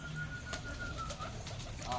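Pigeons, including black diamond birds, coo softly and repeatedly in a loft or setup area over steady background noise, with a few brief calls rising near the end.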